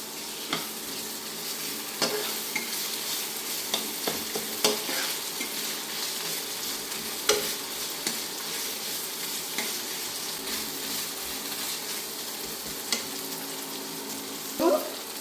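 Onions frying in a pan with ginger and garlic paste added for a rohu fish curry, a steady sizzle under frequent spoon stirs and scrapes, close and continuous with no talking.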